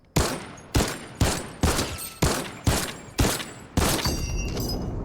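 Fortnite gunfire: six sharp, loud shots at an even pace of about one every half second, each with a short decaying tail, then a burst of faster overlapping firing near the end.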